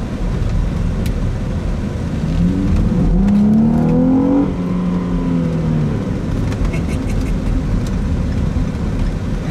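A big, heavy naturally aspirated car with no turbos accelerates nearby, its engine note climbing and rising in pitch over a few seconds before easing off, amid steady outdoor background noise.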